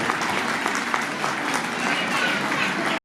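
Loud, dense audience applause welcoming a pastor at a Christian New Year gathering, continuous clapping for about three seconds before cutting off abruptly.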